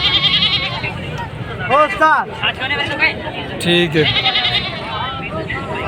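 Goats for sale at a Bakra mandi ahead of Qurbani bleat in wavering cries amid a noisy market with crowd babble, and someone speaks briefly nearby.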